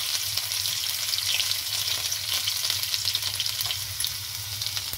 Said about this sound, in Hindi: लहसुन कूट कर डालेंगे इसमें